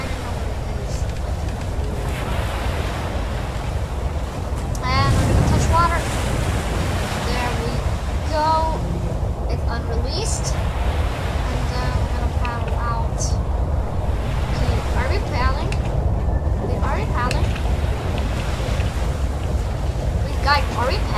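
Water in an HMHS Britannic video game: continuous wash of waves and surf with a steady rushing roar, a swelling surge near the middle, and scattered splashy detail throughout.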